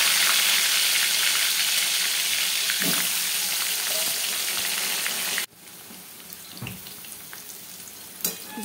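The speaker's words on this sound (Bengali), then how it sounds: "এবার আমি একে একে আলু আর সয়াবিনগুলো ভেজে নেব।" Potatoes and soybeans frying in oil make a loud, dense sizzle that cuts sharply quieter midway. A softer crackle follows, broken by a couple of clunks.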